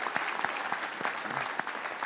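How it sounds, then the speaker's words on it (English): Audience at a college football coaching award ceremony applauding, a steady, even crackle of many hands clapping, moderately distant and without speech. "round of applause, please, for these guys"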